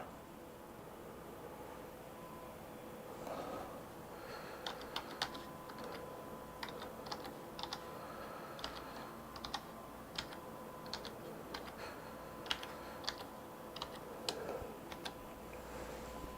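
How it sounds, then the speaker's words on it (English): Computer keyboard keys are typed one-handed during motherboard testing, irregular light clicks arriving in short bursts and scattered taps over a quiet room hiss, close and fairly soft, with no talking. "Got to type with my left hand."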